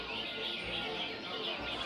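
A trained cage songbird calls repeatedly, its bright chirping notes steady and fairly close against a constant hiss of background noise, with no talking.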